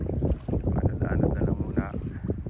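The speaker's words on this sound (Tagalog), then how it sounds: "Medyo malakas yung hangin" Strong wind buffeting a small drifting fishing boat on open water, gusty rumbling microphone wind noise with splashing, steady and close, with no clear speech.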